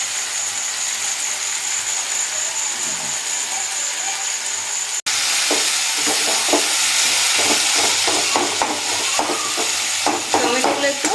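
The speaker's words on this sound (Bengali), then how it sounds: "টমেটোগুলো একটু ভেজে দিচ্ছি" Tomatoes fry with chicken masala in a pan in a village kitchen, a steady hiss of sizzling that turns into rhythmic scraping and stirring strokes partway through, close and fairly loud.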